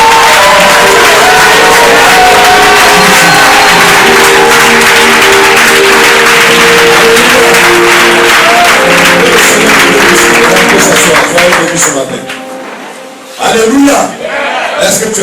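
Church congregation at a Sunday worship service cheering and applauding the Lord, a loud continuous roar of clapping and shouting with music underneath that fades briefly near the end before resuming.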